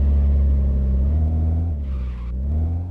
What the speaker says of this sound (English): Got some tires squealing.